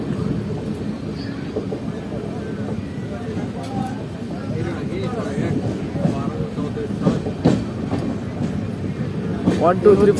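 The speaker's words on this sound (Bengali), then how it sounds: "আমাদের ট্রেন এখন ঢুকছে প্রান্তিক রেলওয়ে স্টেশন।" The Howrah–Malda Town Intercity Express rolls into Prantik station, a steady low rumble of wheels and carriages with scattered clatter and squeals rising toward the end, while a voice talks over it.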